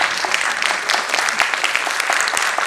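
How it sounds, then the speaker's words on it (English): An audience at a dance performance event claps for the girls who just performed, a loud, even burst of many hands sustained throughout. "Ma'am, you're not clapping for them"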